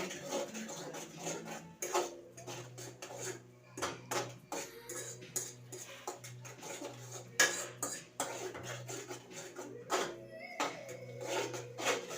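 A spoon taps against a kadai in quick, uneven clusters of bright metallic knocks, fairly quiet with gaps between bursts, while onions fry for egg rice; no one talks.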